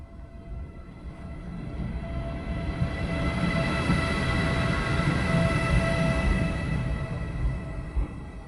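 A freight train with wagons rolling past on rails, a continuous rumbling roar with metallic squealing and rattling that builds toward the middle and eases slightly at the end, fairly close and without voices.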